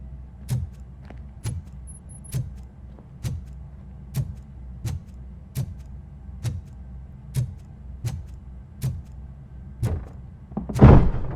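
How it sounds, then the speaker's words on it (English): In the video game RoboCop: Rogue City, a mechanism works to open a door: a steady series of regular heavy clanking thuds about every 0.7 seconds, ending in a louder grinding crash as it opens. "Now let me get that door open for you."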